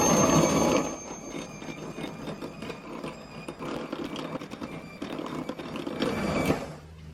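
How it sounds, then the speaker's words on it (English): An electric whisk beats egg yolks with sugar in a bowl, a steady close whirring buzz with rattling against the bowl, a louder burst at the start and a continuous drone to the end. "we're going to add our remaining sugar to the egg yolks, and we're going to whisk this till it's nice and pale"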